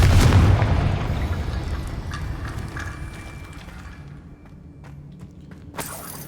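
A Confringo fire spell explosion in the Hogwarts Legacy video game, a heavy close boom that rolls off and decays over several seconds, followed by faint debris and small impacts, with no talk.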